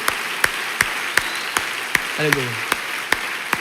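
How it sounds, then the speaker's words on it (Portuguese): A church congregation claps hard in a steady unison beat, sharp evenly spaced claps repeating about every few tenths of a second, while a voice briefly calls out partway through. "aplauda ao Senhor. Aplauda. Com força"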